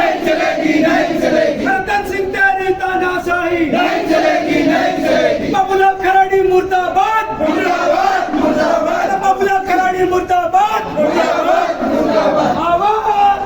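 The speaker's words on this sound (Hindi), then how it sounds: "यहाँ पर आक्रोशित ग्रामीण एकत्रित हुए हैं" Large gathering of angry villagers at a protest, many voices shouting and chanting together in a loud, continuous roar of massed crowd noise throughout.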